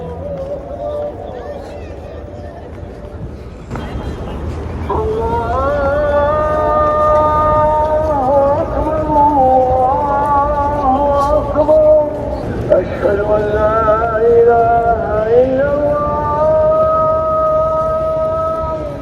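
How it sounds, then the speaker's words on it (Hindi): A long, melodic Islamic call to prayer with sustained wavering tones rings out over a busy food street in Medina, with crowd murmur beneath it throughout. "अजान की आवाज़ आ रही है"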